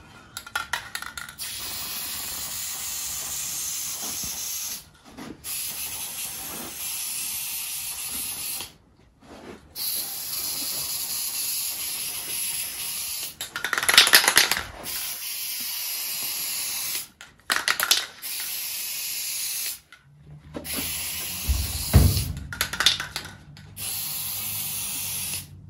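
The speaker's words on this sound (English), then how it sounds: "And then you want to spray around all the edges." Bursts of aerosol spray hiss around the edges of a drawer panel during a DIY vehicle interior fit-out of rear-seat drawers and cupboards, several separate sprays of a few seconds each with brief pauses, fairly close, with no talk.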